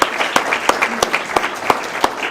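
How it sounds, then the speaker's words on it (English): Brief round of applause from an audience at a mayor's employee recognition awards for nominated city employees, a dense wash of clapping with a few sharper claps standing out close by. "So let's have a round of applause for those"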